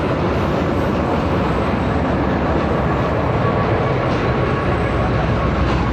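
Awam Express passenger train rolling into Shahdadpur station in winter, a loud, steady rumble of wheels and carriages filling the whole clip without pause, with faint voices mixed into the noise.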